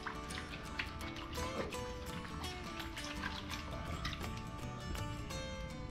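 Steady sloshing and swirling water as a gold pan is washed back and shaken, a continuous close liquid wash with no talking.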